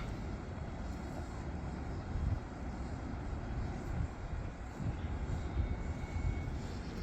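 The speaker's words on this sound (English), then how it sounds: "You can see the drone flying around." A drone flies around outdoors in Tbilisi, its steady whirring engine drone blended with broad noise, continuous and moderately loud throughout.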